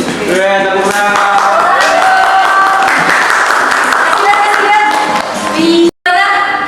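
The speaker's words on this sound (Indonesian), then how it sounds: "Tepuk tangan." Classroom audience applause at an Indonesian school teacher-training session, loud, steady clapping that fills the whole stretch with a short break near the end, mixed with some voices.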